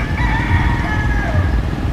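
A rooster crows on a hot early morning in Manila, its drawn-out call rising over a steady low rumble of background noise.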